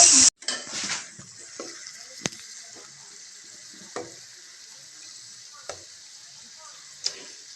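Meat frying and sizzling in a pot over an open outdoor fire, a steady hiss with occasional clinks and stirring knocks from utensils against the pot.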